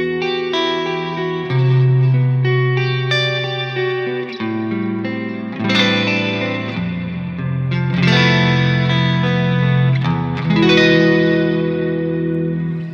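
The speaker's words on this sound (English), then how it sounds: "if I combine the delay and the reverb, it goes like this." Clean electric guitar with no overdrive, run through combined delay and hall or plate reverb, plays sustained chords and melodic notes whose echoes and washy tails linger and overlap, loud and alone without speech.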